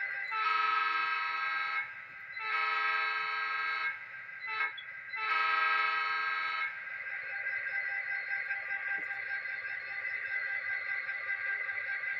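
A model train's horn sounds in three long, loud blasts with a brief toot between them, then a steady tonal hum continues afterward.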